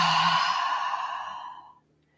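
Deep audible exhale during a yoga flow, a long breathy sigh heard close and alone, fading steadily over about two seconds into silence.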